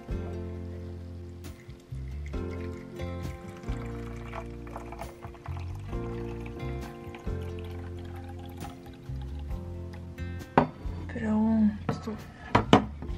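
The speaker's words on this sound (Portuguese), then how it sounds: "Agora vamos pegar água e colocar aqui dentro." Water poured into a baby bottle while making tea, a short liquid pour and trickle near the end, heard under background music with someone talking.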